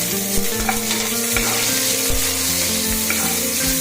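Chopped onions fry loudly and steadily in hot oil for quail biryani, a dense close sizzle with stirring throughout and no voices.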